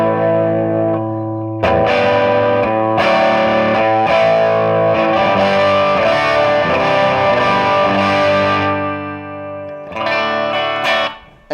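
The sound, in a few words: electric guitar through 3 Monkeys amplifier, second setting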